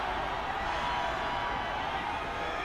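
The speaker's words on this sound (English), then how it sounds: "Listen to the crowd here." Fans at a BYU women's soccer NCAA quarterfinal keep up a steady, loud, distant roar of cheering that holds without a break for a few seconds.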